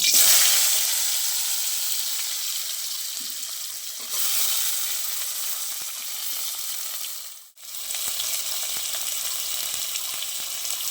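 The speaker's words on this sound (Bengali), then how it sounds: "ওই তেলে আমি সিদ্ধ করা আলুগুলো ভেজে নেব।" Boiled potatoes frying in hot oil make a strong, steady hissing sizzle that swells when they are added, eases slightly, surges again, dips abruptly for a moment, then carries on close and loud without any talking.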